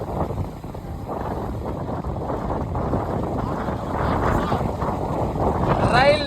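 Strong stormy wind blowing at Pamban bridge, a loud, continuous roaring buffet that rises toward the end, with voices faintly mixed in.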